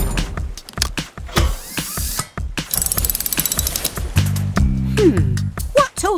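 Cartoon wrench ratcheting in quick clicking bursts while a helicopter's tail rotor is being reattached in a garage, mixed with music and other busy sound effects.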